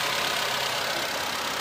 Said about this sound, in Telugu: సౌండ్ కూడా ఏం లేదు. స్మూత్గా ఉంది ఇంజన్ అయితే.